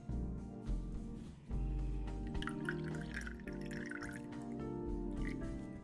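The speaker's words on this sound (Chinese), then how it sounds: "搅拌后的菠菜汁过滤去渣。" Blended spinach juice strained to remove the pulp, giving a soft, steady trickle and drip of liquid beneath continuous background music.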